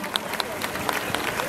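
An audience applauds at a gala concert in Goris honoring Ashugh Ashot's 118th anniversary. Scattered claps mix into a steady crowd wash, with a voice faintly present underneath.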